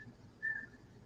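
One faint, thin whistle tone rises briefly over a low background hum, distant and barely above the noise.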